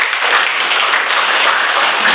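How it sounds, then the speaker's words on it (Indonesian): Classroom group of students clapping together for a classmate, a dense, loud, steady burst of applause close by with no talking. "Oke, tepuk tangan dulu."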